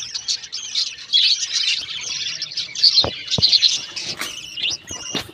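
Pet birds in a home colony chirp and tweet in quick overlapping bursts, close and clear, with a few sharp knocks or squawks mixed in and no talk.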